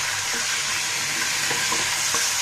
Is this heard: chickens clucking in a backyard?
no